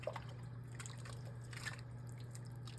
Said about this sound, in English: So put 1 cup of whipping cream into the soup.